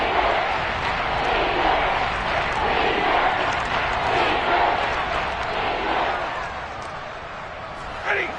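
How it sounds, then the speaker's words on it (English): Football stadium crowd in the fourth quarter building ahead of a big third down, a dense continuous roar of many voices swelling and easing slightly, with a brief sharp burst near the end. "the crowd getting into it as we come up on a big third down"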